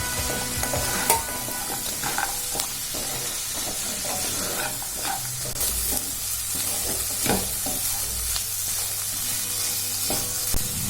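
Fried idli being stir-fried in chilli sauce in a pan, with continuous sizzling and hiss broken by repeated scraping and tossing strokes of a spatula, close and steady with no talk.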